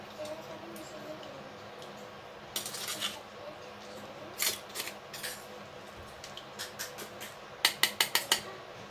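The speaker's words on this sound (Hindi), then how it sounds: "इसे धीरे धीरे चलाते रहेंगे जिससे कि अलसी का जो जेल है ना पूरा निकल जाए वो इसमें" Flaxseed gel stirred slowly in a pot, with a utensil giving scattered bright clinks and scrapes against the metal that bunch into quick bursts toward the end, over a faint background hum.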